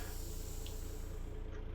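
Truck air brakes released in American Truck Simulator, a loud, steady, close hiss of escaping air that runs the whole moment.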